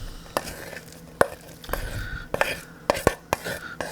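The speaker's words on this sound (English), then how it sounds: "she's going to dump the bowl, and I'm going to use a spoon" A spoon scrapes a thick breadcrumb and milk paste out of a bowl for smoked meatloaf, giving a series of sharp knocks and scrapes, some close together, over low background hiss.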